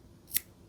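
A single quick snip of scissors cutting crochet yarn, close and soft, in an otherwise quiet room.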